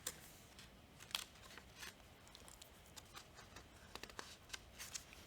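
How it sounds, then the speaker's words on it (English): Quiet paper rustles and flips as book pages are turned, several soft crisp swishes spread irregularly over a hushed background. "Page turning, Carmen."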